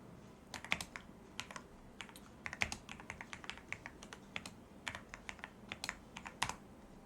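Computer keyboard typing during a frontend React coding session, with quick irregular keystrokes in bursts and short pauses, close and fairly quiet with no talking.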